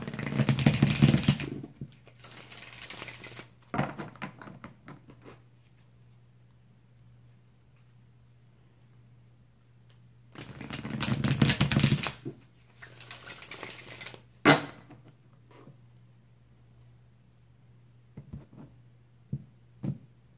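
Tarot cards are shuffled in two quick riffling bursts separated by a pause, followed by a few soft taps and handling noises, close by.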